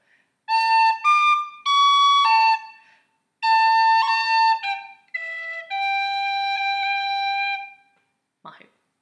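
A tin whistle plays a phrase of the Irish tune The Hag With The Money, clear sustained notes in several grouped runs with brief gaps, ending in a short breathy sound.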